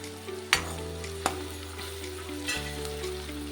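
Chopped onion, ginger, garlic and curry leaves fry in hot oil, a steady close sizzle broken by a few sharp clanks and scrapes of a stirring spoon against the pan.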